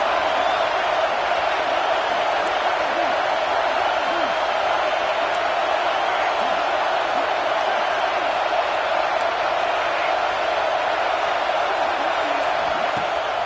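Steady stadium crowd roar on a fourth-down play in the Madden football video game, a dense continuous wash of cheering and noise that holds at a constant loud level throughout.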